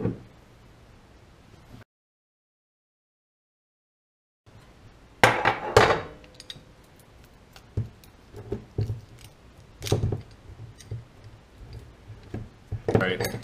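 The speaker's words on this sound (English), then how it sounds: "try and actually remove this rag joint assembly from the solid steering rod" Metal tools working a rag joint assembly off a Foxbody's solid steering rod, giving intermittent clanks, taps and scraping bursts of varying loudness close by after a brief silent gap.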